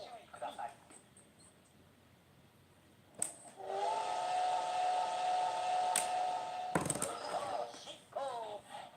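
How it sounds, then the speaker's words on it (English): A C57 Pacific-type steam locomotive whistle in a train video game blows one sustained tonal blast of a few seconds over a faint hissing background, with brief clicks and a voice around it. "the locomotive that we're currently running on this line, I believe is a C-57. It is that being a Pacific type steam locomotive"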